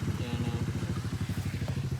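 A Honda RM250 dirt bike's two-stroke engine runs steadily nearby with a fast, even pulsing putter.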